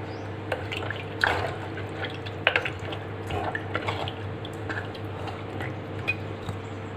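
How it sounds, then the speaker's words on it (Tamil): Water poured into a pot of Tamil dried fish curry, karuvattu kulambu, with soft splashes and drips, a few sharper clinks of utensils against the pan, close and moderately loud. "இப்போ வந்து தண்ணி சேர்த்துக்கோங்க."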